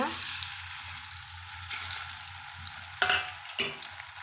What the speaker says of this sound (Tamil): திருப்பி இந்த மிச்சம் இருக்கிறதையும் நம்ம எண்ணெயில் வந்து சேர்த்துக்கலாங்க